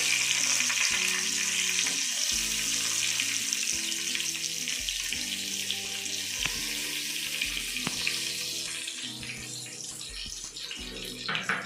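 Chunks of yam (ol) dropped into hot oil tempered with black mustard seeds fry with a steady, loud sizzle that fills the whole stretch, with occasional soft knocks underneath and no talking.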